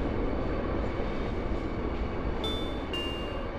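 A train rolls along in Final Fantasy VIII, a steady, loud rumbling clatter of wheels and carriages with a couple of thin high metallic squeals near the end, no voices.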